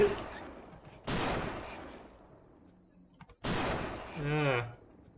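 Gunfire in the video game The Last Stand: two loud bursts of shots about two seconds apart, each trailing off, with a short voice-like sound after the second.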